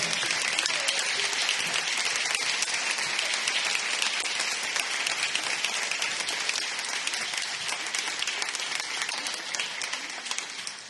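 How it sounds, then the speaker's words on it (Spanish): A strong round of audience applause for Ximo at a spring symphonic concert, continuous dense clapping filling the hall at a steady level, tapering slightly at the end. "Un fort aplaudiment per a Ximo"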